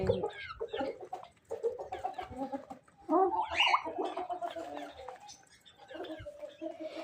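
A village hen clucks repeatedly in short, uneven bursts close by, with other fowl sounds and brief human voices mixed in.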